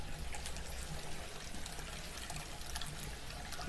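Water runs steadily through a homebrew counterflow wort chiller, hot wort from a pot near boiling passing through; a constant, faint trickling pour with no break, alone.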